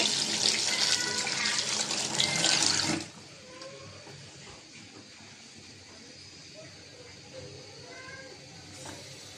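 A tap runs loudly for the first three seconds while tomatoes are washed, then cuts off abruptly, leaving quiet room sound with faint handling noises and a voice in the background.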